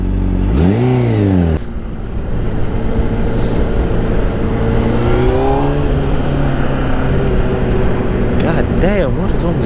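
Car engine in the Oddworld game revving loudly, a sharp rising rev near the start followed by a steady droning engine with smaller pitch swings, under someone talking.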